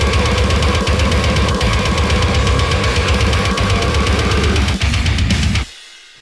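A loud, dense heavy metal track, with recorded screams layered into a saturated wall of distorted instruments that plays steadily and then cuts off abruptly near the end.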